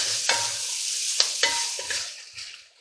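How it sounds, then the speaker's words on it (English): Chicken cacciatore with fresh thyme, parsley and basil being stirred in a pan, giving a few sharp utensil scrapes and knocks over a steady close sizzle that tails off at the end. "Give that a quick stir"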